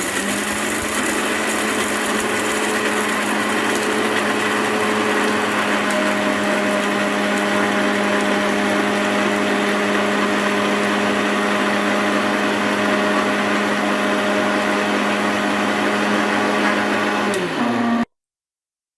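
A mixer grinder runs steadily, grinding a masala of jaggery, tamarind and salt for masala idli, with a continuous loud whirring motor hum that holds for about eighteen seconds before cutting off abruptly.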